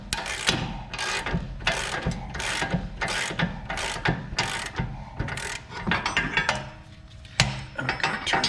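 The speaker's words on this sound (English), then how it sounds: "pressing the bearing in." A wrench ratchets in repeated bursts of clicking while pressing a new rear wheel bearing into the hub of a 2001 BMW 325Ci, loud and close, with short pauses between strokes.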